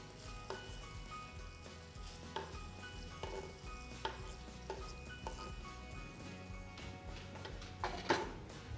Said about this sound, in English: We're going to fry this until our onions is soft.